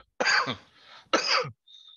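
Two sharp coughs close to the mic, one after the other, with a short pause between.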